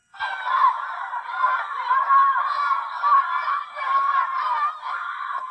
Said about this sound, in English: We encouraged them to cheer on their teammates.